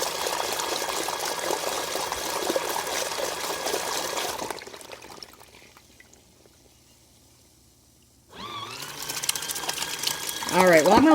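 A small collapsible washing machine churns a load in water, a steady whirring, sloshing motor sound that drops away for a few seconds midway, then returns loud with a voice speaking over it.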